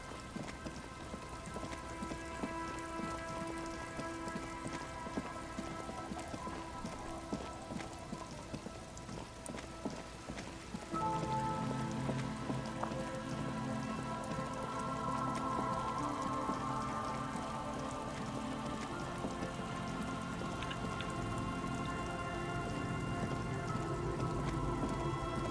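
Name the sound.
rain falling in the video game Disco Elysium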